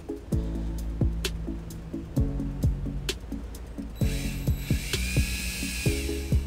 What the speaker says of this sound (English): I'll drill a little quarter inch hole through the flood plug